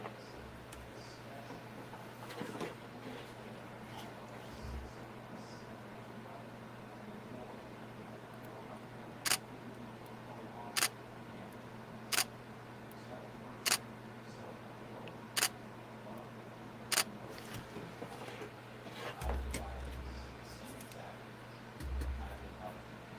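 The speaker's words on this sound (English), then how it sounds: "So I'm going to take a picture of the screws." Camera shutter firing while photographing screws on a Ferrari LaFerrari scale model build, six sharp clicks evenly spaced a second or two apart, close and distinct over a faint hum with some soft handling noise.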